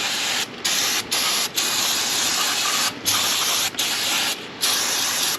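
Brake cleaner sprayed onto a brake caliper in a series of loud, close hissing bursts, each a second or so long and separated by brief pauses, with no voices.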